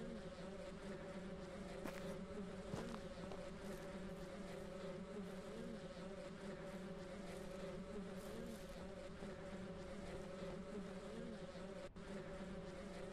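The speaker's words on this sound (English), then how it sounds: "If you take away the beehive, like the buzz sound of the bees" Bees buzzing around a beehive in the farming video game Ranch Simulator: a constant, faint, droning hum that holds steady throughout, with no speech over it.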